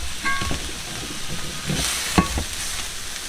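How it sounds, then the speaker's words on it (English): Chicken being stirred into egg fried rice in a heavy, full skillet: scraping spatula strokes and a couple of sharp metal clinks over a constant close sizzle, no voices. "I'm going to put all that in here and stir it"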